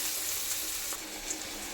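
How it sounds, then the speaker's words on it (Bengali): Onion frying with garlic and ginger paste in a pan, a brief, steady bright hiss of sizzling oil heard close up. "রসুন আদার পেস্টটা আমি দেবো"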